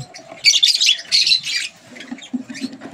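Pet lutino opaline birds squawk loudly and harshly in two close bursts, then give softer, lower chirps that fade toward the end.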